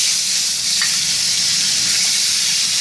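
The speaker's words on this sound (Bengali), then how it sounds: "দেখো কড়াইয়ে তেল দিয়ে দিয়েছি। এবার ডিমটাকে ভেজে নেবো।" Egg frying in hot oil in a wok makes a loud, continuous, close sizzle that holds evenly from start to finish, with no talking.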